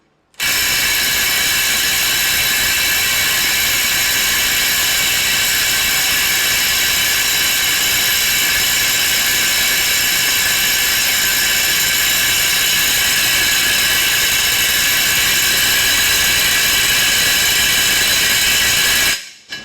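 A Snap-on impact driver with a deep impact socket hammers away in a loud, close, unbroken mechanical rattle. It keeps going for nearly twenty seconds, with no speech.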